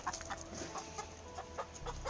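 Chickens clucking in short, scattered bursts at a moderate distance as a rooster chases a hen, with brief rustling and no speech.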